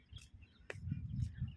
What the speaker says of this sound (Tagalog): dami pa rin ibon.